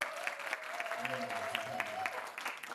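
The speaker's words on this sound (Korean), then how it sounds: "큰 박수." A crowd at a school opening ceremony claps steadily in sustained applause, with a held musical tone running underneath.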